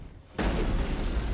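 A video game shotgun blasts after a brief quiet lead-in, the report merging into a loud, sustained burst of gunfire and explosive noise that fills the rest of the moment without any talking.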